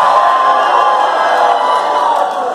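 A live rock concert crowd cheers and shouts in a dense, steady roar that fills the whole stretch, easing slightly toward the end.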